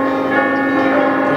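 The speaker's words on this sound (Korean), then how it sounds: "모든 교회가 다 종을 12시가 되면 종을 다 쳐요" Large church bells ringing at noon across Malta, a loud, sustained metallic clang with long overlapping resonant hum, close and steady.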